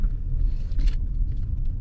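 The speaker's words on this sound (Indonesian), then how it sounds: "Ini kita akan lewat polisi tidur" Mazda CX-5 Kuro Edition rolling over a speed bump, a steady low road rumble inside the cabin with a soft muffled thump partway through.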